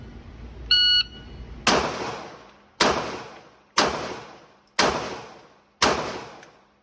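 A range timer beep, then five handgun shots at a shooting range, fired at a bullseye target 10 yards away, each a loud, sharp crack followed by a decaying echo, spaced about one second apart.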